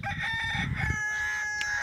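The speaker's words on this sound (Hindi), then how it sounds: "मुर्गे के काम चेक कर लें आठ बजे अजाने दे रहे हैं" A rooster crows once, a drawn-out cock-a-doodle-doo heard clearly at moderate distance, with no talking.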